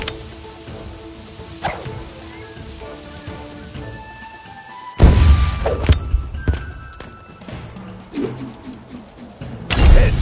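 In the archery game Bowmaster, arrows strike with dull thunks and thuds, including a sharp loud impact midway and another near the end, over soft background game sounds.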